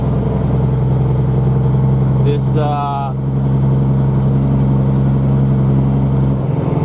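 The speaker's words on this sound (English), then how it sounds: "truck seems a little loud today." A loud truck engine drones steadily on the way to a small septic job, a constant low rumble filling the whole clip while someone talks over it.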